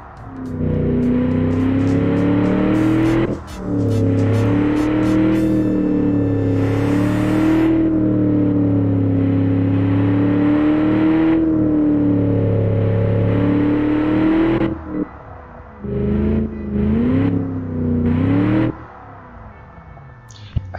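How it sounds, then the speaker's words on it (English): A 1971 7-liter V8 with a 4-barrel carburetor, rated at 330 horsepower, idling loud and close with a steady throb, then blipped through several quick revs near the end. "Let's hear this 1970s legendary 7-liter engine."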